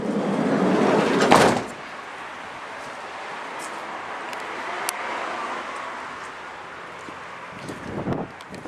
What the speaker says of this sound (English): The door is pretty heavy